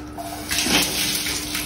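Water pours steadily into a cooking pot in a home kitchen, a close, continuous splashing gush that swells slightly midway and runs alone without talk for under two seconds.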